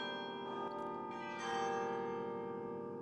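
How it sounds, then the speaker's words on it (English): Carillon bells in a Belgian town ringing, several bright tuned strikes layering into a sustained shimmering chime that sounds somewhat distant and moderately quiet. "he's been living that dream with the carillon"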